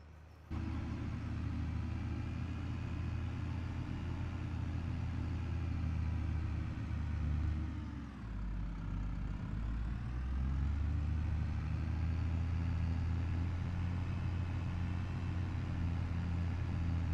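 A tractor in Farming Simulator 25 hauls a heavy load of peas, 22 tons in all, its engine a deep, steady labouring rumble that dips briefly midway before droning on close and alone.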